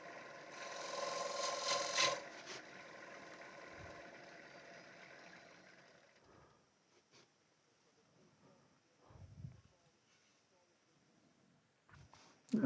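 A wood lathe spinning near 1300 RPM takes a finishing cut on a wooden plate, giving a close raspy scraping for the first couple of seconds, then fading into quiet with a few soft thumps and rubs.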